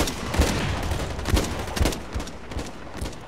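Rapid gunfire from the shooter game Blacklight Retribution, dense overlapping shots and bursts at close range with sharp repeated cracks and no talking.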